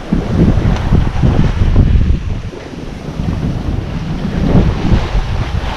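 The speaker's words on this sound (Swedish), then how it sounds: "Det blåser väldigt mycket på vågtopparna och så hojnar det ner Det är som en pulserande vind nästan." Strong wind roars across open ocean water on the Portuguese coast, buffeting the microphone in pulsing gusts over a steady wash of big waves.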